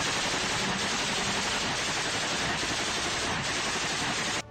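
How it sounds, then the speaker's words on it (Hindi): Machine gun fire rattles in a war zone in Ukraine, a dense, continuous burst of rapid shots, loud and harsh, that runs unbroken for several seconds before stopping abruptly, with no voices. "एक लड़ाका मशीन गन से एक तरफ ताबड़तोड़ गोलियां चलाता दिखाई दिया।"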